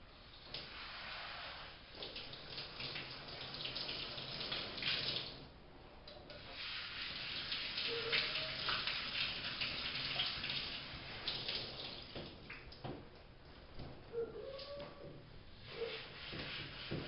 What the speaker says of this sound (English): Geis has been shampooed and I rinsed him out completely.